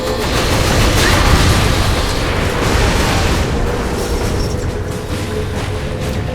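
A heavy rumbling explosion in the video game Saints Row IV Re-Elected roars loudly, with a dense, crackling low boom that slowly tapers off over several seconds.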